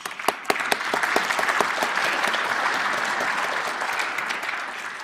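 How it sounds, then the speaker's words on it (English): An audience at a First Nations leadership gathering bursts into applause, starting with a few sharp individual claps that quickly swell into a sustained, even wash of clapping. "Give yourselves a round of applause."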